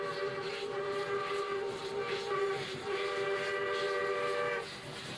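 A South Australian R-Class steam locomotive, Glasgow-built by North British, pulls away on a damp morning, its whistle sounding in steady, sustained tones over continuous rolling rail and steam noise before easing off near the end.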